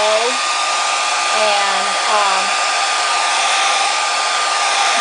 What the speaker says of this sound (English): Easiest way is to really put your blower on low